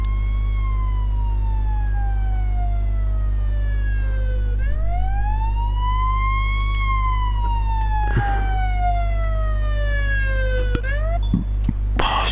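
Wailing emergency siren from an ambulance in the Police Simulator game on PS4 Pro, sweeping down then up in long rising and falling tones over a steady low engine drone, loud and close, with a few brief clicks near the end.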